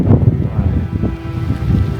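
Strong gusting wind on an exposed Scottish mountain near the summit, buffeting the microphone with a steady low roar that swells and dips over two seconds, with no voices.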